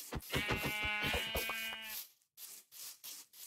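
A sheep in Minecraft bleats loudly and close for about two seconds in a wavering cry, followed by quieter scattered game noises.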